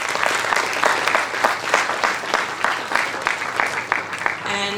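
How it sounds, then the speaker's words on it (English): An audience at an interschool sustainable development competition bursts into sustained, dense applause, steady and loud throughout with many hands clapping together, fading slightly near the end. "So let us clap for JGI and Shikha."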